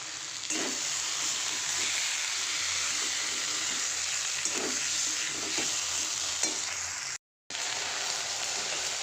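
Okra with onion, turmeric, chili and cumin fries steadily in a pan, a continuous dense sizzle with occasional stirring scrapes and a brief gap near the end.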